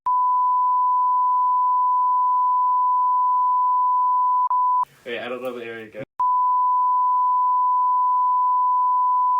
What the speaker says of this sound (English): that's gonna be like a minute of beeping